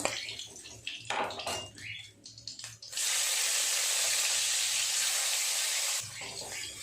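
Tangra fish frying in hot oil, heard first as clattering and stirring, then a loud, steady, close sizzling hiss that holds for about three seconds before dropping back to quieter frying noise.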